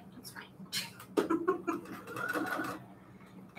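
Sewing machine stitching a mat, its rapid mechanical chatter coming in short uneven runs at close range, mixed with faint background sounds.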